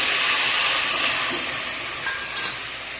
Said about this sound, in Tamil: நல்லா சேர்ந்து கொஞ்சம் வதக்கி வச்சுட்டு